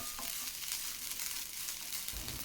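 Kozhukattai filling frying in a pan on a low flame, a continuous soft sizzle with faint stirring scrapes and a low thump near the end.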